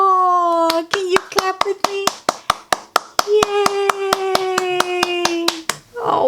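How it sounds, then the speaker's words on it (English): Hands clap in a steady, even rhythm, about twenty sharp close claps, along with a read-aloud of the children's story Officer Buckle and Gloria, while a voice speaks and sings over the beat before the clapping stops. "can you clap with me?"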